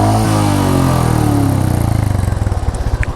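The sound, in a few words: Royal Enfield Meteor 350 motorcycle engine and exhaust note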